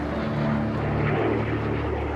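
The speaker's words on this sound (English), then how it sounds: "Russian jets are swarming all over the ship." Russian fighter jets fly around the warship HMS Duncan at sea off Crimea, heard as a loud, continuous engine roar that holds steady without a break.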